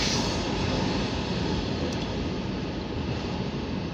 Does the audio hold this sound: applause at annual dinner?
no